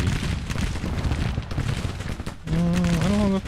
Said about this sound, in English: We're shooting up this cavalry brigade pretty good.